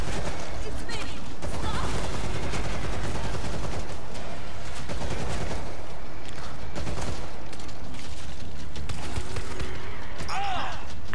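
Pistol and other gunfire in the zombie shooter World War Z, dense and continuous with bursts throughout, mixed with game noise and chaotic action, with people talking over it.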